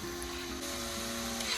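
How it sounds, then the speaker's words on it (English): An electric drill spins as its chuck is tightened around a drill bit, a short close whirring hum with a shifting pitch, heard alone. "Put a drill bit in and tighten it around it."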